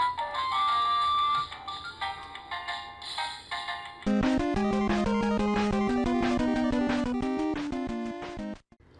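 Cheap electronic cover of a video game stage theme, played on a recorder-like tone; a brief high intro, then a loud, steady melody with a bouncing bass line fills the clip.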